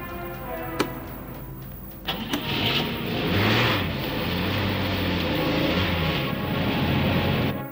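A car engine cranks and catches, then settles into a steady running hum as the car moves off, with brief mechanical clunks near the start, heard close and fairly loud without speech.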